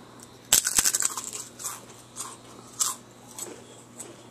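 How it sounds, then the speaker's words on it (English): Doritos chips being bitten and chewed close up: one sharp crunch, then a burst of rapid crunching followed by a few spaced, fading chews in a quiet room. "I think I'll have some Doritos."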